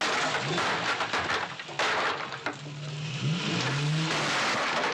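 A car from a TV episode performing a stunt over a fence, engine roaring and revving with tire squeals and gliding pitch sweeps, loud and close, with sharp bursts and impacts in a busy mix.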